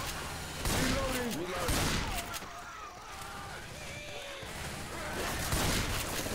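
Rapid bursts of zombie-shooter gunfire in Left 4 Dead 2, sharp cracks and volleys scattered through the stretch, mixed with game noise while players talk over it.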